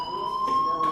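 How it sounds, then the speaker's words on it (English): Fire alarm in the game Life Is Strange sounding as a continuous loud electronic tone, steady and close, with faint pulsing hiss beneath and no talk. "do you hear that fire alarm?"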